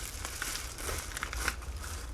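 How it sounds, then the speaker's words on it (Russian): Plastic bubble wrap crinkles and crackles as it is pulled off a packaged Denso mass airflow sensor for a Subaru, a close, continuous rustling with small pops and tearing bits, no talking. "Пупырка."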